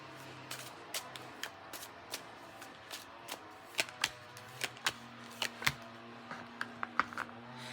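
Tarot cards are shuffled and drawn, producing a run of sharp, close card snaps and flicks at an irregular, fairly quick pace over a quiet background with a faint steady hum.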